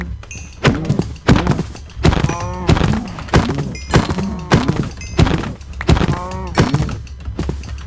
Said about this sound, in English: I'm sorry, cows. My nickel sword is just not strong enough to kill you instantly.